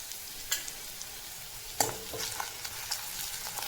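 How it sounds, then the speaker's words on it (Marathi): Onion, garlic and ginger sautéing in a pan, with steady soft sizzling and frying hiss, plus a few sharp stirring scrapes of a spatula against the pan, close and alone with no talk. "आपण या कांद्यामध्ये आता लसूण आणि आलं ते पण परतून घेऊ"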